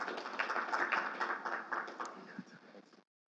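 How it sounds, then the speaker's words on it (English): A crowd claps for a speaker at a Samsung enterprise mobility developer event. The brief, dense applause is slightly muffled and stops abruptly after about three seconds. "Round of applause for Todd."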